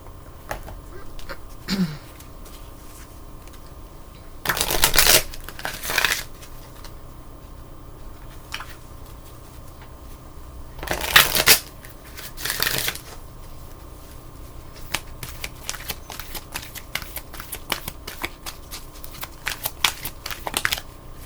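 Oracle cards are shuffled by hand, brief crisp riffling bursts around two or three times among quieter card handling and light rustles, close and alone without talk.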